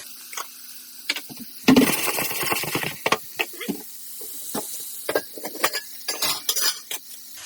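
Spices and salt crackle and splutter in hot oil for a fish curry, with scattered sharp pops and clinks of a utensil against the pan, close and irregular.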